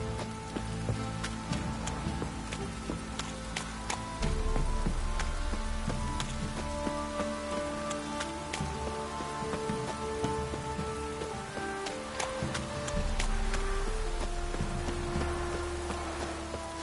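Rain patters steadily in The Witcher 3 on PS5, a soft, continuous hiss of drops on surfaces mixed with horse hooves clip-clopping and a low tonal game score.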